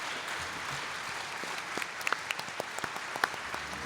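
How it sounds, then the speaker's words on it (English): Steady audience applause for mayoral candidates at a 2015 Houston mayoral debate forum, a continuous wash of many hands clapping with a few sharper claps standing out, no talk over it. "give a round of applause to our mayoral candidates"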